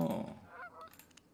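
In the online game Albion Online, geese honk in a goose-breeding area, giving a few quick, faint honks in close succession against near silence.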